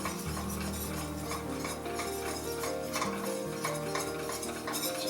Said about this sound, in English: So we're going to do the old 1 minute of whipping.